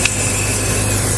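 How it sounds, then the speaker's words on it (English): Odor eliminator aerosol spraying steadily inside the closed cabin of an Acura TSX, a continuous close hiss over a low hum, running unbroken throughout. "You can see the spray is just going up, heading out."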